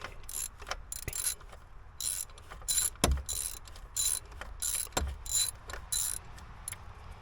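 A ratchet tightening the idler pulley bolt on a Dodge Nitro, with quick bursts of clicking strokes repeated in an uneven rhythm and soft metallic knocks between them, close and fairly quiet.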